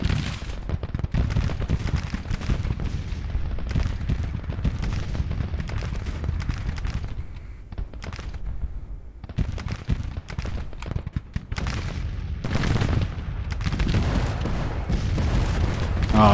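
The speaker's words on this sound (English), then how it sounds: "that's a lot of artillery exploding over him right now" Artillery shells burst in rapid, overlapping volleys in the Civil War strategy game Grand Tactician, a loud, dense rumble of booms and crackling blasts with a brief lull midway before the barrage resumes.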